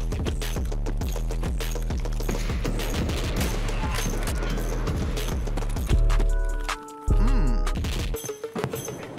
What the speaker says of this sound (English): That guy missed all of his shots.